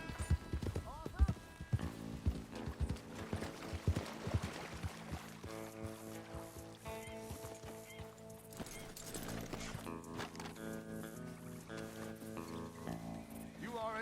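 Horse hooves clip-clop in the video game Red Dead Redemption 2, a close, rhythmic trotting under a musical score, with voices talking over parts of it.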